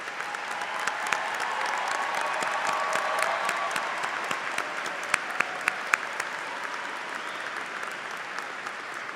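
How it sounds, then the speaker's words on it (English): An audience applauds steadily for several seconds at a high school graduation ceremony, a dense wash of clapping with a few sharper claps standing out. "we offer a round of applause for your students"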